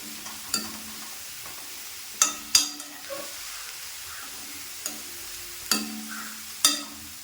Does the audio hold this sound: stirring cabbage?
yes